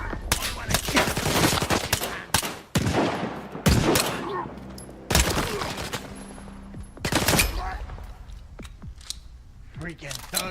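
Gunfire rings out in STALKER 2: Heart of Chornobyl, with loud, sharp shots and short bursts spaced through a firefight and brief pauses between volleys. Voices talk over the shooting at times.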